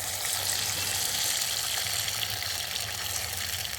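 Food sizzles and fries in a hot pan, a dense, even crackle heard up close and continuing without a break.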